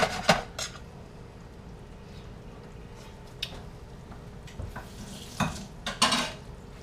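Taco filling sizzles softly in a pan while a utensil stirs and scrapes it, with a low frying hiss throughout and sharp clinks of metal against the pan at intervals.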